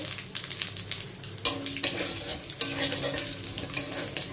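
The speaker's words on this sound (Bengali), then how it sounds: "জিরে ফোড়ন দিয়ে দেবো। মাছ ভাজা হয়ে গেছে।" Cumin seeds tempering in hot oil left over from frying fish, a steady close sizzle with sharp crackling bursts and a few spoon-against-pan scrapes.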